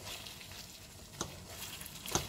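Salt mackerel simmers in a pan, making a soft, faint sizzle and bubble with two brief clinks of a utensil and no voices.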